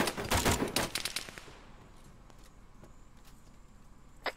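Gunfire in the video game Arma 3, a loud rapid burst of automatic shots at the start that fades into scattered distant single shots and a quieter crackle.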